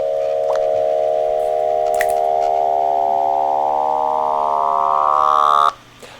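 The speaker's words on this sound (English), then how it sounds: "we generate the sine wave, but we're basically just throwing in like an extra sine wave" A synthesized tone built from added sine waves holds a steady, loud, stacked hum that slowly rises in pitch, then cuts off abruptly near the end.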